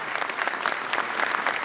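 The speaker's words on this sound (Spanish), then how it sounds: "quiero pedir un aplauso para todos ellos" A crowd at a street march against impunity claps and applauds, a dense, lively patter of many hands close by, unbroken for the whole moment.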